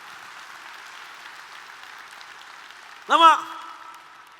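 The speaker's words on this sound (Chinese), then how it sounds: "我们再给我们的 Mr. Julie 一个热烈掌声" Steady applause fills a leadership training session hall in Malaysia for about three seconds, then a voice cuts in and speaks over the fading clapping.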